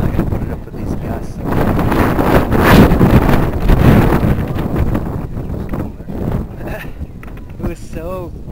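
Gusty wind buffets the microphone at an outdoor RC model jet flying field, a loud continuous rushing roar that swells and eases, with people talking over it.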